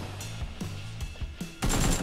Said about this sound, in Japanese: 東の方の銃声がそうなのか